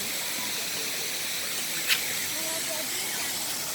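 Steady broad hiss of falling water from a waterfall at KL Bird Park in Kuala Lumpur, continuous and fairly soft, with a brief sharper burst near the middle.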